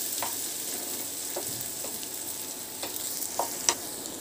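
Boiled corn is stirred with fried tomatoes in a pan, with an even sizzling hiss and a handful of light, irregular spoon scrapes and taps against the pan.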